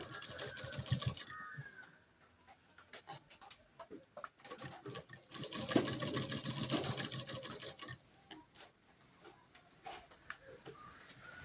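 A sewing machine stitching a homemade bra: fast, fairly faint mechanical whirring in several short runs with pauses between them, with no voices.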